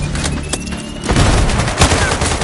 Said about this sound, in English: I'm listening to gunshots